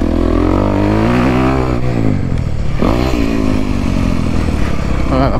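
A 2023 Honda CRF 250R dirt bike at Washer Valley revs hard and rides close by, its engine note climbing and dipping in loud, continuous bursts with some rattling clatter.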